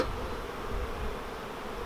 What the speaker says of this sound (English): We have half a box of bees